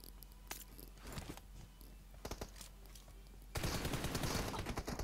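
Gunfire in the mobile battle-royale game PUBG Mobile: scattered sharp shots crack over a steady game backdrop, then a loud, dense burst of continuous firing takes over the last second and a half.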